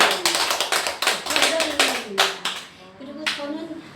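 Clapping from a small audience at a talk on life and aging, a burst of distinct, fairly close hand claps that thins out toward the end while a voice speaks over part of it.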